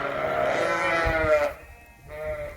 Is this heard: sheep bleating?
yes